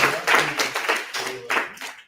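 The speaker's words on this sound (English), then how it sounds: "Big round of applause" A class pitch event ends with a short burst of audience clapping for a presenter, close and fairly loud over about two seconds, then fading out.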